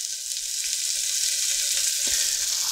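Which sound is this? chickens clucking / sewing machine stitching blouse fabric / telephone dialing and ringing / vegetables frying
vegetables frying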